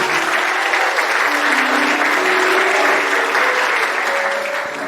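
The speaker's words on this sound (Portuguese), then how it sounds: "Vamos aplaudir o Senhor por essas vidas." Sustained applause from a church congregation at a thanksgiving service marking a 50th anniversary, loud, dense and steady for the whole stretch, with a few voices and tones faintly audible underneath before it tapers slightly at the end.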